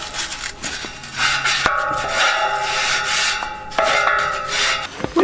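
A small wire brush scrubs back paintwork on a garden feature, a continuous close rasping scour with brief pauses and harder strokes.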